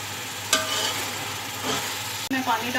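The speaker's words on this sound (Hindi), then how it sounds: "अब इसको थोड़ा सा भूनेंगे, ज़्यादा नहीं।" Steady sizzling of biryani ingredients with mint and coriander frying in a pan, with a couple of sharp scrapes as it is stirred; no talking.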